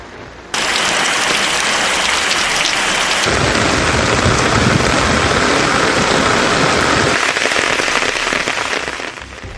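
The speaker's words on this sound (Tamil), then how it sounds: "நள்ளிரவில் இடியுடன் கூடிய கனமழை கொட்டி தீர்த்தது" Heavy night-time rain during a thunderstorm in Tamil Nadu pours down in a loud, dense, continuous roar that fills the whole stretch, with rumbling undertones and no voices.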